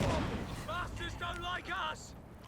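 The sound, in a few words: Werfer rocket barrage in Company of Heroes 2 video game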